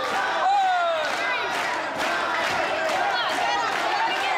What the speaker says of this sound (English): Let's go, Fire, the chant that's ringing through the Belasco.